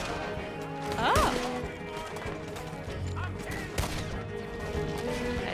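Scattered gunshots in Red Dead Redemption 2, a few separate cracks mixed with hooves and ambient game sound, moderately loud, with no talking.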